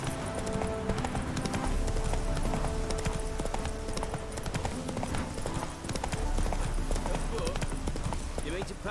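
In The Witcher 3, the horse Roach gallops with a fast, continuous clip-clop of hooves amid busy game sound, while a voice talks over it.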